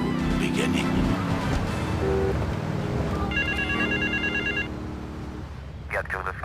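A telephone rings inside the video game GTA III, a repeating electronic ring that cuts through in-game radio talk, music and car noise, fairly loud and in the middle of the mix.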